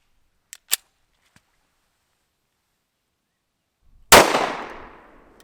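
A single .45 ACP gunshot from a Smith & Wesson Shield pistol firing Sig Sauer V-Crown ammunition cracks sharply and loudly near the end, trailing into a decaying echo after a few faint clicks and near silence.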